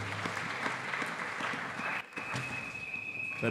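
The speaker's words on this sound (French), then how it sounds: "Nous acclamons pour la parole du Seigneur" A church congregation applauding during a Sunday service, a dense crowd clapping that fills the room, briefly dips, then resumes with a faint tone sounding through it.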